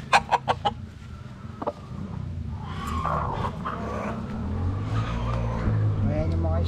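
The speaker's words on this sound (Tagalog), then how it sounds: "Ayan yung mga stag natin na mga bagong harvest." Young stag roosters, a pure white Kelso line, cluck and crow in a pen: a few sharp calls at the start, then a steady low rumble of birds and background noise with faint voices.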